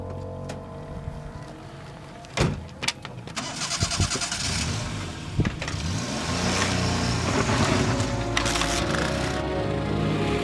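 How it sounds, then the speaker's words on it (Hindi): A motorcycle engine cranks and catches with a few sharp bursts, then settles into a loud, close running note that builds as the bike rides off. "तू गाड़ी लेके निकल, मैं मोटरसाइकिल लेके आता हूँ"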